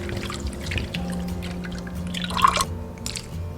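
Razor clam meat gets rinsed by hand in a bowl of water, with soft drips and gentle sloshing splashes, a small louder splash midway, close and quiet.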